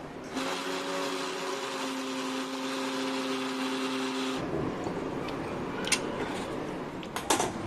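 A mixer grinder grinding garlic and spices whirs steadily with a loud motor hum, then stops abruptly, leaving a few small clicks and knocks.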